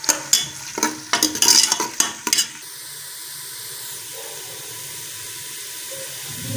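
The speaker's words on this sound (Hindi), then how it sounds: "घी डाल दिए और अभी डालते हैं प्याज। इनको कर लेते हैं थोड़ी देर तक ब्राउन हो जाएंगे" Onions frying in ghee in a pan, with a string of loud scraping stirs over the first few seconds, then a steady soft sizzle carrying on alone.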